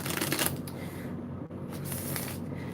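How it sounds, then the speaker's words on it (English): Stiff tarot cards shuffled continuously by hand, a dense, steady riffling and sliding close up with no talking. "Sorry it's taking me forever to shuffle these, y'all. These are super, super stiff right now."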